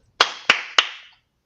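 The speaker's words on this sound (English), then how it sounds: "clap again, my friend" Three sharp hand claps spaced about a third of a second apart, close and crisp, each with a short reverberant tail, heard alone during a comic art auction.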